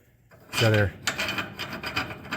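A 5/8 bolt sliding into a tube on a Fox Body drag car, a short loud metallic scrape followed by lighter rubbing and clicks, close up.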